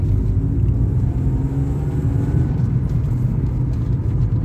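A BMW E36 328i engine pulls hard with a deep rumbling drone, the pitch shifting as it moves up through the gears, heard from inside the cabin.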